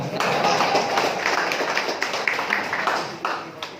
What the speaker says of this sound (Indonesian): silakan tepuk tangan dong.